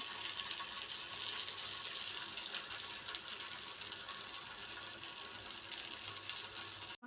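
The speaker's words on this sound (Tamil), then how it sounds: "எண்ணெய் காஞ்ச ஒட்டியும் இதை போட்டுற வேண்டியதான் இந்த மாதிரி சவுண்டு" Leftover murukku cutlets fry in hot oil in a dosa pan, making a faint, even sizzling hiss that goes on steadily with no voices.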